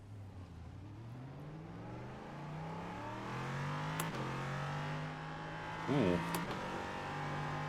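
An LMP3 prototype race car in iRacing revs and accelerates through the gears, its engine note climbing in steady sweeps and dropping at shifts, loud and close, with a brief exclamation over it.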